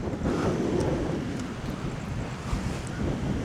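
Wind blowing outdoors at night beside a harbor on a fishing outing, a steady rushing roar with buffeting against the microphone and a constant wash like surf, with no voices.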